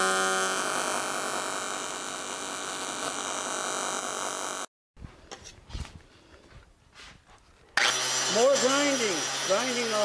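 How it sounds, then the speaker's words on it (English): A power grinder cuts away old brackets and welds on an aluminum airboat radiator support. The steady loud whine runs for several seconds, breaks into a quieter pause, then starts again with a shifting, wavering pitch. "Grinding off brackets, or welds where there wasn't any brackets even."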